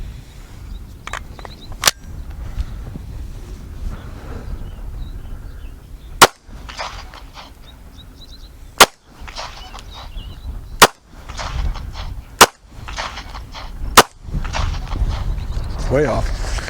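Pistol shots ring out during a shooting drill, six sharp, loud cracks spaced a couple of seconds apart, with people talking and moving around between them.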